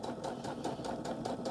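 A sewing machine stitches two pinned fabric pieces for a casserole carrier, a close, steady whirring drone with a rapid regular pulse of needle strokes throughout.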